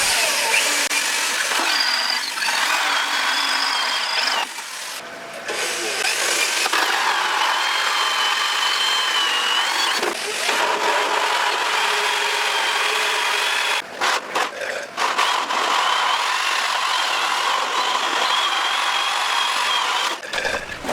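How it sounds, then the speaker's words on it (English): A power drill bores holes through a tank and wooden shelves, with long grinding, whirring runs broken by short pauses, loud and close with no talking. "And we have 5 more to drill out, plus 6 larger holes drilled through the wooden shelves."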